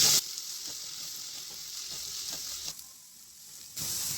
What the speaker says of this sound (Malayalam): അതിലേക്ക് കറിവേപ്പില കൂടി ചേർത്ത് നല്ലപോലെ ഇളക്കി കൊടുക്കാം